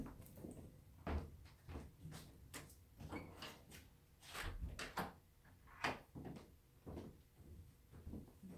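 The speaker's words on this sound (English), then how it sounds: "Let me close that door." A door being shut indoors, with several knocking and clattering thumps scattered through the stretch amid light handling noise, fairly close and moderately loud, with no talking.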